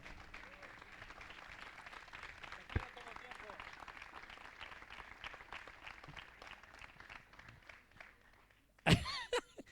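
A church congregation applauds in a continuous, fairly quiet patter of many hands for several seconds, with a loud thump and a brief voice near the end.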